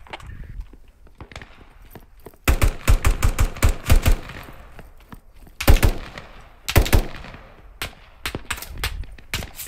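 Bursts of automatic gunfire and single shots from the military shooter game Squad, loud close volleys in clusters separated by quieter gaps with distant battle noise.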